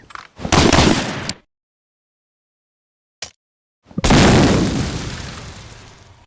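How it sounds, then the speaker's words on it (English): Two loud grenade blasts in Medal of Honor Allied Assault multiplayer: a sharp burst with a short rumble, then silence and a small pop, then a second, longer explosion fading slowly. "Konami with another nade"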